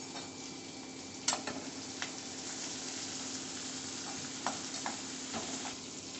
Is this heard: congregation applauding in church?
no